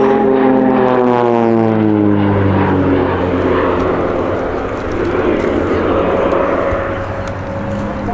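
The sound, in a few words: Swiss Air Force Pilatus PC-7 aircraft flying aerobatic display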